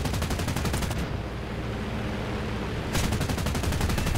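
Italian aircraft machine guns firing in War Thunder from an SM91, loud rapid bursts at the start, a short pause with engine roar, then another sustained burst.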